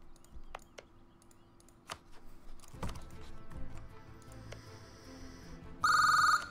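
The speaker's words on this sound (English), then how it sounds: "Oh god, phone." A telephone starts ringing loudly near the end, a bright burst that follows quieter keyboard clicks and desk sounds during a strategy-game session.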